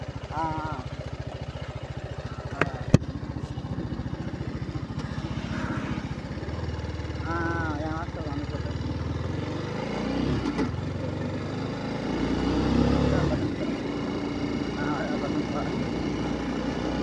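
An RR310 motorcycle hums steadily on a city ride, its engine a low continuous drone under a rider talking throughout, with traffic noise and a brief horn-like tone mixed in.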